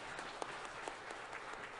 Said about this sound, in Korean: 우리 박수로 환영하시고 축복해 주시겠습니다.